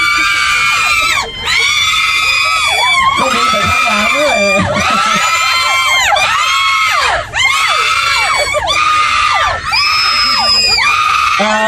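Crowd of fans screaming and cheering for Bright at a fan event, a loud sustained wall of high-pitched shrieks rising in repeated waves, with someone talking over it on a microphone.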